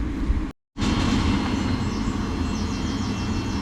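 Class 700 Thameslink electric train pulling out of a station, a steady loud rumble and whine of motors and wheels close by, continuing after a brief cut.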